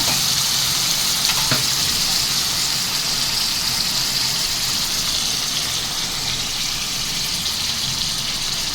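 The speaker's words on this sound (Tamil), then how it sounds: "அரைச்சி வச்சுருக்க மசாலாவை ஊற்றிக்கலாம்." A ground green chilli and mint masala hits a hot pan for a chicken gravy, setting off a loud, steady sizzling hiss that holds for the whole stretch with little change.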